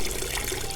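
Water gushes from a tap into a bucket, a steady close rushing splash that fills the whole moment without pause or voices.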